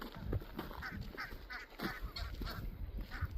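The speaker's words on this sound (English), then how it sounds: "That's a different one, that goose." Geese honk repeatedly beside a canal towpath, a series of loud, nasal calls at fairly close range over outdoor background noise, with no talking.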